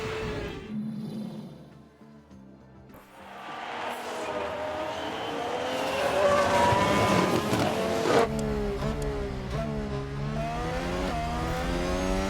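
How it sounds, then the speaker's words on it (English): A Haas race car spinning out in the F1 Manager 22 racing game, its engine roaring and revving in rising and falling harmonic sweeps, loud and continuous, with the pitch wavering sharply near the end. "there's a spin!"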